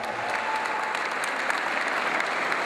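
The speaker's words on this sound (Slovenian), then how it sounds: "Pa to ni bilo dovolj, en velik aplavz." Continuous audience clapping in a hall at a high school graduation ball, dense and even from start to finish with no voices standing out.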